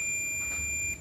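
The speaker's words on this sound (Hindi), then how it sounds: "ये जुड़ने पर बीप देता है ना" A multimeter on continuity mode beeps while tracing the power supply lines on a phone circuit board: one steady, close, high-pitched tone lasting about a second, with no talking.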